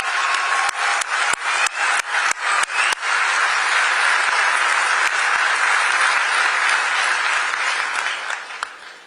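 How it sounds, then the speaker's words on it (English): Large audience applause at the FIFA World Cup draw ceremony, starting with loud rhythmic bursts of clapping, then swelling into a dense, sustained roar of hands that fades slightly toward the end. "Bienvenida también y un gran aplauso a la Presidenta de México, Claudia Sheinbaum."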